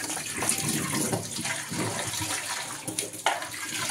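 Tap water runs steadily while mashed giant taro paste is squeezed and washed by hand, a continuous splashing flow with irregular wet squelches and sloshes close by.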